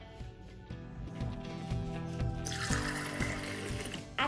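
Water from a tap pours steadily into a measuring cup, measuring 400 millilitres for a hummingbird sugar syrup. The close stream splashes and gurgles, its tone rising as the cup fills, with no voices.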